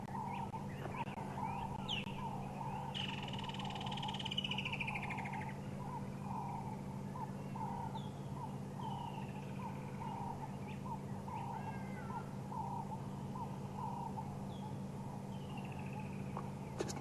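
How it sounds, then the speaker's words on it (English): Several woodland kingfishers calling at sunrise in African bush, repeated trilling calls recurring at a moderate distance over a low steady hum, with other faint bird calls scattered through. "Got quite a few woodlands kingfishers calling"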